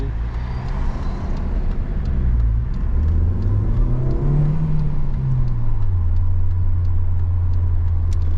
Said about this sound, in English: Oh, nice sounding car, those.